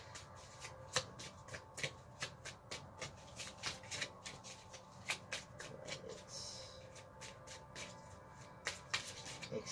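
Playing cards are shuffled by hand over and over, quick crisp riffles and soft slaps in an uneven rhythm, close but quiet, with no talking.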